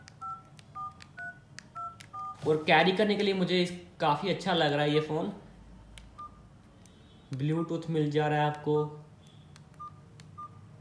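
Short electronic keypad beeps from an iPhone 14 Pro Max clone phone, several tones pressed one after another at the start and a few more later, with someone talking loudly in between and over the later beeps.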